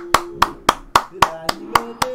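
One person clapping hands, eight sharp, evenly spaced claps at close range, loud and crisp, with faint background tones between them.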